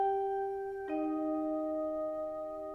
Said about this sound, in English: lower register of the Celeste, which just has wonderful overtones